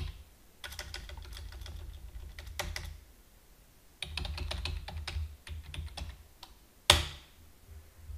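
Close keystrokes on a computer keyboard type out a key password in two quick bursts separated by a pause, ending with a single louder key press like an Enter.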